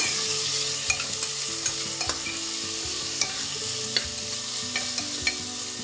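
Chopped ginger and yardlong beans fry in a pan, a loud steady sizzle punctuated by regular scraping and knocking of the stirring utensil roughly every half second, with no talking.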